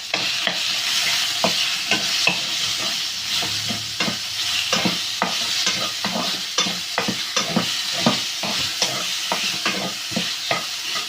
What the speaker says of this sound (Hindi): फ्राई कर लेंगे चिकन को।